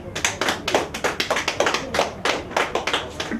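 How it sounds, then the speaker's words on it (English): An audience at an evening event claps in a brief burst of applause, close and lively, with many overlapping hand claps in an uneven rhythm. "Please give a round of applause."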